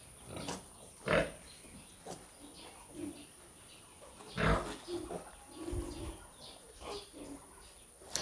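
Pigs on a livestock farm grunting and squealing in scattered bursts, with several louder calls standing out over a steady background hum.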